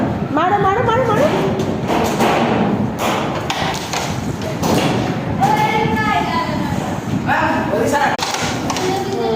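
Carrom striker hitting wooden carrom pieces on a board during a home game: several sharp knocks and clacks scattered among excited, loud children's voices and adult talk.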